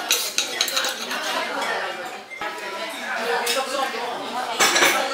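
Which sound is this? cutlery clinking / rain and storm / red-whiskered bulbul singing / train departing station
cutlery clinking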